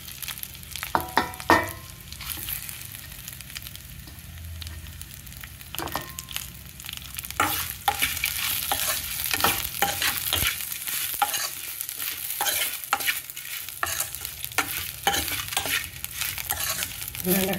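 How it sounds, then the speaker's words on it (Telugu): Pieces of ivy gourd, already fried, are stirred in a pan with steady scraping and a continuous bright sizzle, with scattered spoon clicks against the metal and no voices. "ఇందులో వేయించి పెట్టుకున్న దొండకాయ ముక్కలు వేసేసుకోవాలి."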